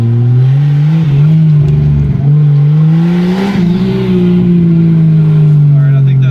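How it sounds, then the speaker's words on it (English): A Lexus SC300 with a swapped 2JZ-GTE engine and no intercooler piping drives a lap around an airport hangar. Its loud exhaust drones steadily and close, with a slight rise in pitch midway, and no other sound competes. "Your exhaust is loud."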